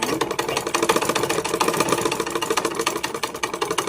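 A sewing machine runs steadily and loudly up close, stitching folded-over fabric at a fast, even, rattling pace throughout.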